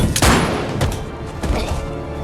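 Gunfire from a weapon in a tense action-film scene, a loud burst of shots and heavy thumps close up, followed by rumbling impacts and a roomy, reverberant tail.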